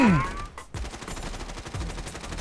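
Gunfire in a mobile shooting game played on a budget phone, heard as dense, continuous bursts of shots over a busy game soundscape, loud and close, with a voice also briefly heard in the mix.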